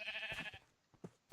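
Sheep bleating in Dragon Quest Builders, a clear bleat at the start followed by a few short, fainter bleats and game sounds, with no talk.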